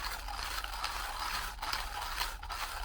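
A small, inexpensive manual coffee grinder is handled, its mechanism giving off a steady, close grinding and ratcheting rasp that runs without a break for a few seconds, with no voices.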